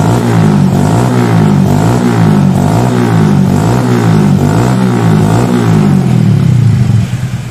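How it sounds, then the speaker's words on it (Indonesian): A motorcycle engine with a carburetor revs repeatedly and loudly during a throttle test of pilot and main jet sizing, its low rumble swelling and falling in steady cycles close by. "Oke, sekarang kita tes gas ya."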